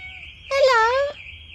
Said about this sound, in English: This is our neighbour's cat.